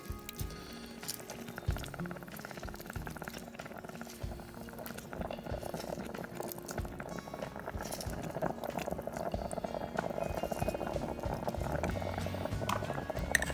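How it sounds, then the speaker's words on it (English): Chicken madras curry with tomato and lime juice bubbles and sizzles in a pan, a quiet continuous patter of small pops and gurgles that grows slightly busier over time, close up with no talking. "what you're seeing is bubbling up off the chicken itself"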